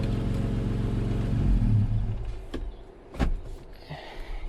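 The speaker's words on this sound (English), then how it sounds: "Roll my windows up." Electric power windows on a Jeep rolling up inside the cab, a low motor whir over engine rumble, followed by a couple of sharp clicks as the glass seats; no talk.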